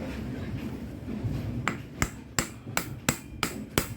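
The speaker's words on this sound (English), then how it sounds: "now I'm going to have to hammer on the pulley" A hammer strikes the rear transport roller pulley of a GS-series bowling pinsetter in a series of about seven sharp metallic blows, evenly spaced and close, following a quiet stretch with no talk.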